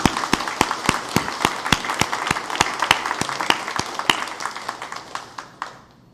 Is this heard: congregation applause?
yes